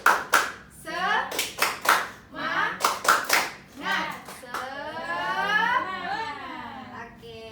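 Classroom students in a junior high lesson do a rhythmic spirit clap, loud sharp claps in quick bursts and counted patterns mixed with children's voices chanting and shouting.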